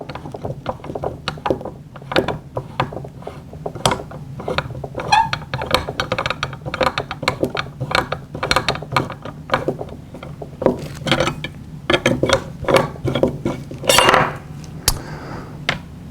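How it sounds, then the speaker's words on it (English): Metal clicks, taps and scrapes of a bolt retaining pin being worked free from the receiver of a Daisy Model 1903 drill rifle with a 3/16 hex wrench, close up and irregular over sixteen seconds, with no talking. "Okay, next we'll be removing the bolt from the receiver using our 3/16 hex wrench."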